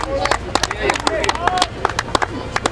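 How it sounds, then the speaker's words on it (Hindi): Sparse, sharp hand claps ring out after a cricket match to honour its star performer, scattered and uneven rather than a full ovation, with voices speaking over them close by. "एक बार जोरदार तालियां।"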